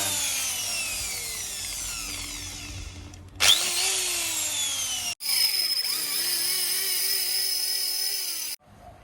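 A power drill whines steadily as it bores into a hard knife handle, pitch shifting under load, stopping briefly and starting again, loud and close.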